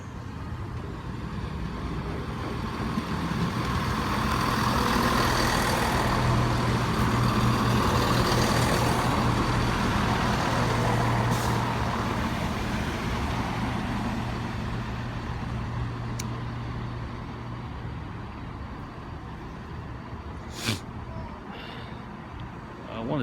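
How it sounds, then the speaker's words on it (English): A Class 170 Turbostar cross-country diesel unit pulls into Cheltenham Spa station: a steady low engine drone and rumble builds and holds, with a brief sharp hiss or brake squeal near the end. "coming in now is a cross-country service to Nottingham from Cardiff Central. One of the turbo cross-country"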